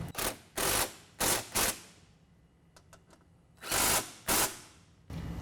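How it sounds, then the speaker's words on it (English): Bracket bolts being tightened with a 13 mm tool while fitting oval nerf bars on a 2014 Chevy 1500: short, loud mechanical whirring bursts in quick clusters, with a few faint ticks between them. "we're gonna go ahead and tighten the brackets up to the boards using a 13 millimeter"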